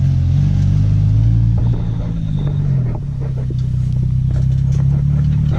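A car engine with a failing clutch throwout bearing and lightweight flywheel, running with a loud, steady low rumble and a brief dip in pitch midway, with no talking.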